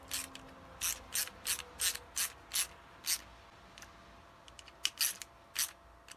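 A ratchet tool snugging bolts while attaching the shock tower on a Team Associated B74.1d 4WD RC buggy, a quiet close series of about ten rhythmic clicking bursts, then a pause and a few more clicks.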